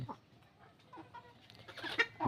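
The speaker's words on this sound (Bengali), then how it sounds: "এখনও মুরগি আছে" Scattered clucking from a few hens at moderate distance, with brief rustling and a louder burst of clucks near the end.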